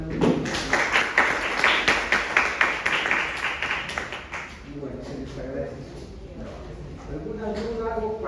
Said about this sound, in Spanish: Aplausos, compañeros